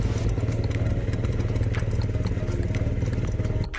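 A Piaggio Vespa 50 scooter, unrestored, runs steadily at close range at a two-stroke idle, with a continuous low rumble and a fast, even pulsing that holds for nearly four seconds before dipping at the very end.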